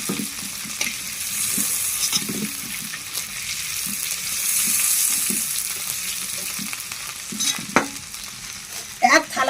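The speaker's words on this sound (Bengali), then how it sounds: "লাল লাল করে চিংড়ি মাছগুলো ভেজে তুলে দিচ্ছি" King prawns fry in hot oil in a wok for a Bengali malai curry, giving a loud continuous sizzle and bubbling broken by stirring scrapes and a few sharp clatters near the end, with no talking.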